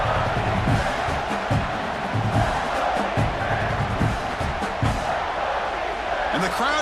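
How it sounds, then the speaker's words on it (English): A stadium crowd in NCAA Football 26 roars and cheers continuously, with swelling shouts and rhythmic pulses of noise, and a voice briefly speaks near the end. "And the crowd coming to life here, trying to help this defense down in the red zone."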